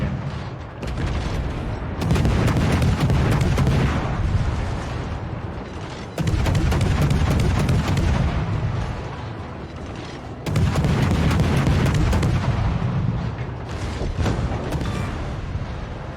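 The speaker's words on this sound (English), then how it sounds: "As it gets past, resume fire." Naval guns fire at an enemy ship in a video game battle, heavy booming salvos rolling in long, loud waves with rumbling decay between shots and no talking.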